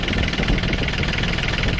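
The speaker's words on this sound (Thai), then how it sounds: "ตัวนี้เครื่องยนต์สามสูบไดเรกอินเจคชั่นนะครับผม" A Yanmar three-cylinder direct-injection engine on a farm tractor idles nearby with a loud, steady, knocking diesel rumble and no talk.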